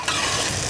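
Potatoes frying in a pan being stirred, a loud close continuous sizzle with a quick scrape of the utensil, no voices.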